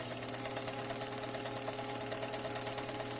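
A sewing machine runs steadily, top stitching around the edge of a fabric bell cover for a musical instrument, with a fast even whir and rapid needle chatter that stays close and continuous throughout.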